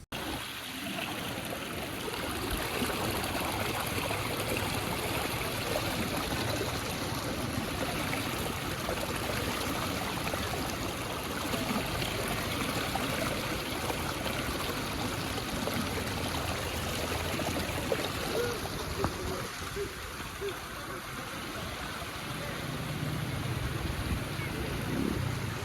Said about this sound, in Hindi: दरिया के पानी का बहाव देखें